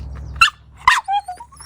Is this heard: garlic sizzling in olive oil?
no